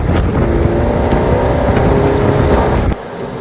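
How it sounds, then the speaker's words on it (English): A 230 bhp Mini Cooper JCW hatchback drones steadily at speed, its exhaust roar blended with heavy wind rush, then drops abruptly quieter near the end. "I don't know whether my mic is catching the sound of the exhaust."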